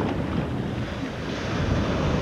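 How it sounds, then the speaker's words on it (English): Lake Erie waves surging and washing against a small fishing boat, with steady wind buffeting the microphone; a continuous, close, rough roar of water and wind with no voices. "Look at the waves."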